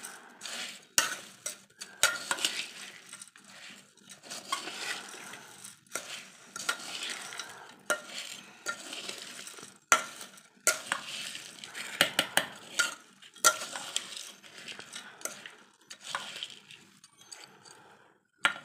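Bhel ingredients with farsan are stirred and tossed together in a bowl, giving a steady run of close scraping, rustling and clinking, with no talking.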